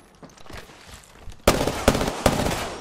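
Gunfire in a video game shootout: a soft rustle gives way to three loud, sharp shots about half a second apart, each with a brief ringing tail.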